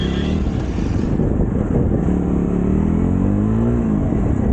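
A Jawa 42 Bobber motorcycle pulls away in first gear, its engine note climbing steadily as it revs up close by, loud and continuous with no talk over it.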